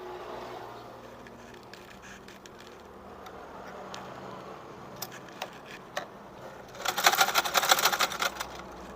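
A sewing machine stitches the side seam of a garment being shortened at the waist, sounding as a dense, rapid burst of mechanical ticking near the end after several seconds of quiet room noise with scattered clicks.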